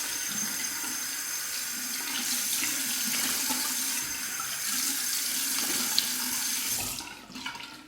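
A tap runs steadily into a sink while a freshly shaved face is rinsed, the flow splashing and shifting a little before it cuts off near the end.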